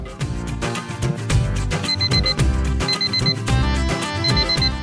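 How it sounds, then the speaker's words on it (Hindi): An alarm clock rings in repeated short bursts of rapid high beeps over loud rhythmic background music. "अलार्म बंद कर दो यार"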